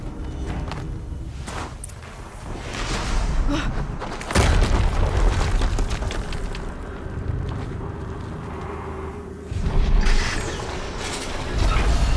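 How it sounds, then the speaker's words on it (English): Explosions in the video game Horizon Zero Dawn Remastered, with heavy booms and thuds rising over a continuous rumbling, mechanical game soundscape, several strong hits spaced a few seconds apart. "Another explosion."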